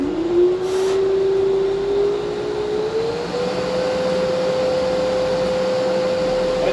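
A Festool dust extractor winds up to its full setting, its motor whine climbing in pitch during the first few seconds and then holding a steady, even hum over a constant airy roar.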